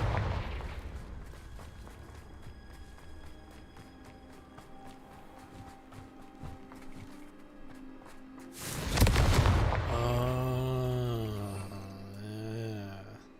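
A Confringo fire spell from the video game Hogwarts Legacy bursts in a single loud blast partway through, following a stretch of game ambience and footsteps; a voice cries out afterward.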